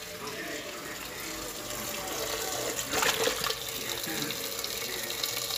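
Water runs steadily from a tap into a cooking pot, a continuous splashing stream that swells louder briefly near the middle.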